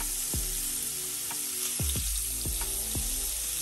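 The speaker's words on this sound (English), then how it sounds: "You just want to cook it to where you can get that crust on each side, but still not overcook it at the same time," Scallops searing in a hot pan, a steady loud sizzle and crackle with a few occasional sharp pops, close up and alone with no talk.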